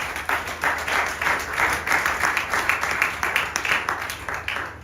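A church congregation claps in a steady rhythmic beat during a sermon, many hands striking together at an even tempo, moderately loud and sustained throughout.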